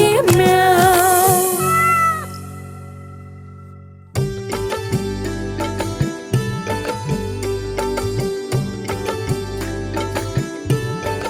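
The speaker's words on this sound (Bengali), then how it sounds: "বিড়াল করে মিয়াও" Drawn-out cat meows open a Bengali children's nursery rhyme, then give way to bright, rhythmic music that plays loudly and steadily to the end.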